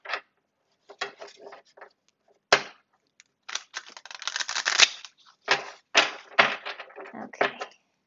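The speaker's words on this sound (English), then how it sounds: "let me go ahead and shuffle your cards for December" Tarot cards being shuffled by hand nearby, a series of quick crisp riffles and slaps in uneven bursts with brief pauses.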